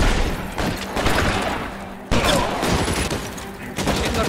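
Machine gun fire in the video game L.A. Noire: loud sustained bursts of rapid shots roll on with brief breaks, and a voice is heard faintly underneath.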